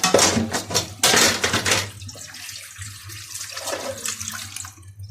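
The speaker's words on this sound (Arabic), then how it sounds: "ادي السلكه اهي، وادي الصابونه الصلايط بتخلي المواعين زي الفل" Dishes are washed by hand under a running kitchen tap with a scouring pad and soap, water gushing loudly with clinks of pots and plates at first, then a quieter steady trickle.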